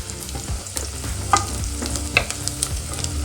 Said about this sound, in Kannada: ಈಗ ಈರುಳ್ಳಿ ಚೆನ್ನಾಗಿ ಫ್ರೈ ಆಗಿದೆ